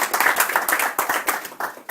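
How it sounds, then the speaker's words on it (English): A small group claps for a speaker at a wellness talk, brisk uneven hand claps close by for under two seconds, without cheering. "giving a very, very big round of applause to Geoffrey Montague Swartz"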